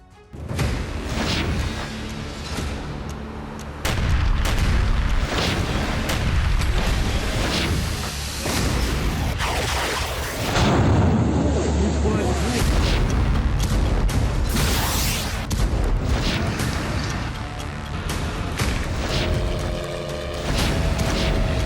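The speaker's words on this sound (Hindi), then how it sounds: "रूस की जमीन पर फिर धमाके," Booming explosions and rumbling blasts on Russian soil in the Russia–Ukraine war recur over a continuous dense roar, with dramatic underscoring and no pause across the stretch.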